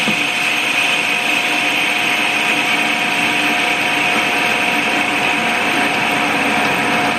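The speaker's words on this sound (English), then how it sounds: "I'm setting up the drill." A center drill on a lathe bores a center hole in a turned wheel, giving a steady, loud whine of machinery with an even hum that holds without a break.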